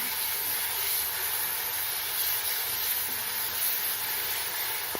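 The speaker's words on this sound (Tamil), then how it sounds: "இப்போது மசாலா அரைச்சி வச்ச பேஸ்ட்டு சேர்த்துக்கலாம் இதை நல்லா எண்ணெய் பிரிகிற வரைக்கும் வதக்கணும்" Masala paste sautéing in oil in a pan for a tapioca stir fry, giving a steady close sizzling hiss throughout with no talk.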